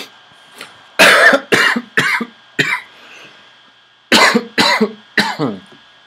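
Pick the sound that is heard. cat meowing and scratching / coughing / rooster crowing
coughing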